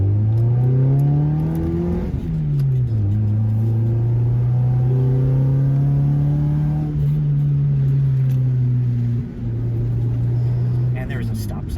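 Honda Prelude driving a twisty road, a loud steady engine drone inside the car that dips at a gear change then settles into a held cruise, with someone talking over it.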